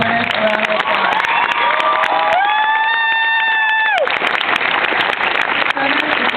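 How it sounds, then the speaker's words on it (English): Crowd noise and cheering fill a graduation ceremony as scholarship winners are applauded, steady and loud throughout, with a sustained tonal note in the middle and scattered shouts. "Let's give all of our scholarship winners a round of applause."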